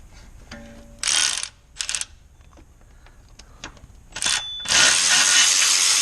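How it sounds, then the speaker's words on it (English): A bolt on the AC compressor of a Land Rover LR4 is worked loose with a ratchet, giving bursts of rapid clicking that start and stop, ending in a longer, louder run of ratcheting, close by with no talking. "I'm going to take the top bolt of the compressor out"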